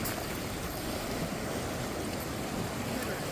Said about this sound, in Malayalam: ഈ തടാകത്തിൽ ഇങ്ങനെ അലയടിക്കുന്ന വെള്ളത്തിന്റെ ഒച്ച കേട്ട് എത്ര നേരം വേണേലും നമുക്ക് ഇരിക്കാൻ തോന്നും